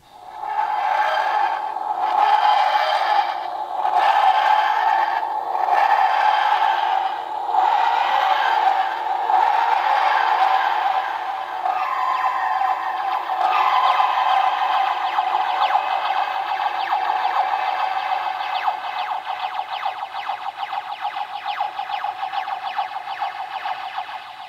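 A 13th Doctor electronic TARDIS toy from Doctor Who playing its built-in sound effect: a loud, continuous electronic wheezing and grinding drone, pulsing rhythmically at first and then settling into a steadier, rasping tone.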